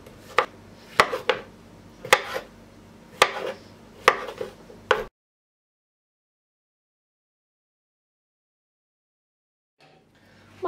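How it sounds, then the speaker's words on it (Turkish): Sharp knife chops on a cutting board, about half a dozen spaced strikes close by, then a long silence before faint noise returns at the very end. "Bu şekilde doğrayacağım."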